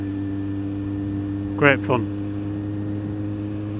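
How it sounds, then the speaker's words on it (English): A Kawasaki Z750R motorcycle is ridden on the road, its engine holding a steady, even drone throughout while a voice briefly speaks over it. "Now riding the bike,"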